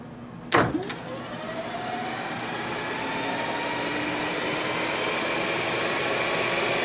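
An electric motor in a Jeep CJ7 EV conversion starts with a sharp click and spins up a flywheel, a steady whirring whine that climbs in pitch and holds loud and close to the end.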